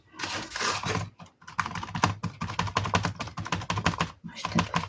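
Rapid dabbing of a paint sponge to remove excess paint before stamping on art tags, a close, dense patter of soft quick taps in bursts with brief pauses between.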